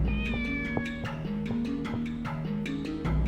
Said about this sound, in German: wir streicheln nochmal die Katze